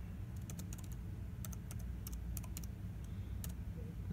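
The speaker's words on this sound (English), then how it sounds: "I'll just type that for you." Keys tapped on a computer keyboard while setting Chrome flags on a Surface Studio, a few quick bursts of clicks at steady room level over a low background hum.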